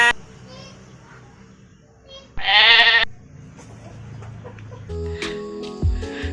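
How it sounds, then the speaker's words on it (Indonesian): A goat gives one loud, high bleat partway through, surrounded by softer background noise and other faint sounds, with a child-like voice nearby. "ini adalah hewan kambing"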